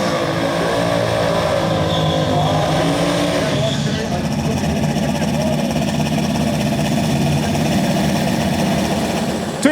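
Drag racing engines, Warhorse against a twin-turbo Mazda at a no-prep event, idle and rumble loudly at the start line, with a busy, crackling roar and rising revs throughout.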